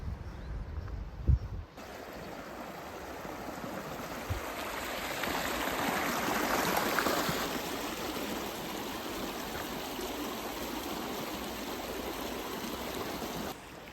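A stream flows beside a walking trail in Yangpyeong, South Korea, a steady broad rush of water close by after a short quiet start with a couple of faint knocks, continuing evenly to the end.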